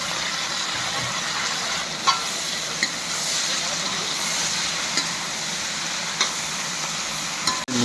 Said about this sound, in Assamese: এতিয়া এই চব্জিটো ঢালি দিলোঁ। লেচৰামাহ আৰু আলু চব্জি।